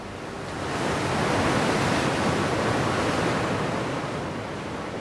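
Ocean waves pound the exposed north coast of Scotland, a loud, steady roar of surf that swells after the first second and holds without a break, with wind mixed into the wash.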